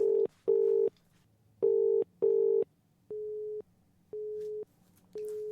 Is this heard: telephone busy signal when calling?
yes